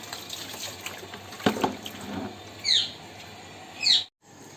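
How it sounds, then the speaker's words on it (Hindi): Water tap running into a vessel in a home, a steady close splashing flow with a few brief chirps in the background, ending abruptly as the flow stops. "अब नल खुल गए हेवे, तो भर लेता पानी।"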